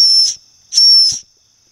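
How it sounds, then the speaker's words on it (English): A Mossy Oak 19-in-1 multitool's built-in whistle is blown twice, two loud, shrill, steady blasts very close to the microphone, separated by a short silence. "we're gonna blow this whistle"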